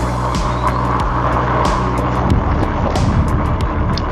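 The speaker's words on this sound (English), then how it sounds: "A few cars about, getting into the thick of the metropolis." Cars passing in city traffic on the way into the metropolis, taken from an electric fatbike: a steady road and motor rumble with light wind buffeting, and a few vehicles sweeping by with brief rising whooshes.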